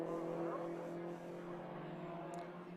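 Nissan race car passing on a circuit during a club race meeting, a steady engine drone holding close and fairly loud for a few seconds before easing slightly, with no talk over it.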